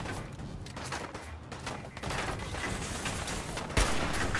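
Rapid gunfire from the video game Fallout 4, a dense continuous rattle of shots with a heavier thump near the end, loud and steady throughout without speech.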